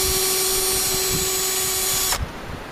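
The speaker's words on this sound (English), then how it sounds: "Although, the newer one isn't a bad drill, 12 volt, but you can't beat DeWalt." A DeWalt 12 volt power drill whines loud and close at a steady speed for about two seconds, then cuts off abruptly and spins down.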